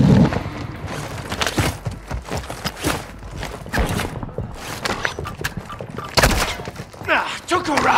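Gunfire crackles through Call of Duty Warzone on Ashika Island, loud bursts of shots and thuds mixed with a voice calling out in the game.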